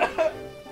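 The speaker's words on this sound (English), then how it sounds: "I noticed that when I turned to cough" Two quick coughs sound close together, short and sharp near the microphone, followed by a brief quiet tail.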